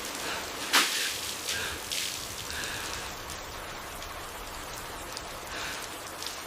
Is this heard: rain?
yes